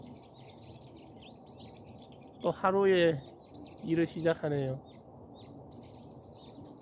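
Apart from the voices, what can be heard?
birds chirping on a farm in the morning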